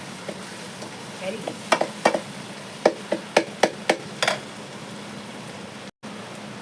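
Onions and tomatoes sautéing in a pan for a Tamil mutton or fish kuzhambu: a steady low sizzle under a series of sharp spatula clacks against the pan, with a brief spoken word.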